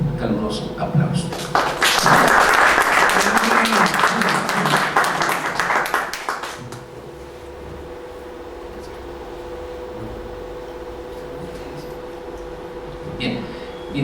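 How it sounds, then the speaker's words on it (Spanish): An audience at a book presentation in Guadalajara breaks into warm, dense applause that swells for about four seconds and then cuts off, leaving a quiet room hum with a few scattered taps. "un caluroso aplauso."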